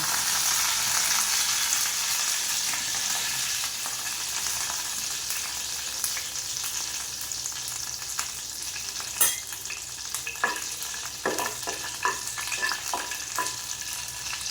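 Curry leaves crackle and sizzle in hot oil with dried chillies for a chickpea-lentil dhokla tempering, a steady close frying hiss broken by sharp spatters and stirring clinks toward the end.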